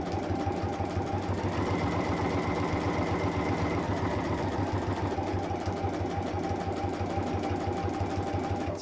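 Sewing machine running steadily for several seconds while stitching a fabric purse around curves, a fast, even mechanical whirr and needle clatter, close and moderately quiet with no talking.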